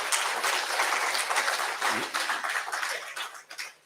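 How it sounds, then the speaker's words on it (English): A hall audience applauds dignitaries at the inaugural session of a conclave in Bhubaneswar, a soft, dense and continuous patter of many hands heard from a distance, rising and dipping slightly with no speech over it. "Once again, please give a big round of applause for our dignitaries."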